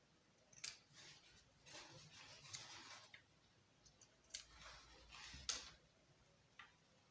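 Scissors notching the edges of a fabric front panel, a few soft, sharp snips spaced apart, close but quiet, with no one speaking.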